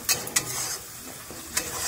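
Spice masala being stir-fried in a pan, a close continuous sizzle with sharp scraping and clinking strokes of a spoon against the pan at the start and again near the end.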